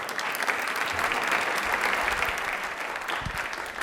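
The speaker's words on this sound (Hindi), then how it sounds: "तालियां जोरदार हो जाएं भाई" Loud, sustained applause from a studio audience at a televised quiz show, steady dense clapping filling the whole stretch with no voices over it.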